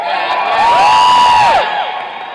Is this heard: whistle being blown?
no